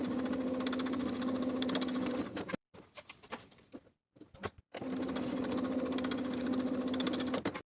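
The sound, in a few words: sewing machine sewing jumpsuit shoulder seams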